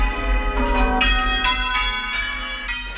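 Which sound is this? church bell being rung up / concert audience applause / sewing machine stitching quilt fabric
church bell being rung up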